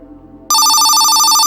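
A telephone starts ringing abruptly after a low hum, a loud, bright electronic trill that holds steady and fills the room.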